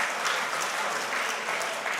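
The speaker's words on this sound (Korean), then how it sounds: "재정부 보고 박수로 받아주시면 고맙겠습니다" Steady applause fills a church general assembly hall as delegates accept the finance committee report, dense and sustained throughout with a faint voice underneath.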